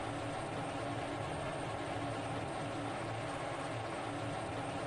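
In the Falcon BMS simulator, an F-16 jet engine spools up after a JFS start, a steady loud droning whine with a broad roar that holds evenly throughout, no voices.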